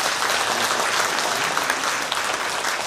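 A church congregation claps in welcome at a gathering for multicultural blessed families, with brisk, continuous applause from many hands filling the room and no talk.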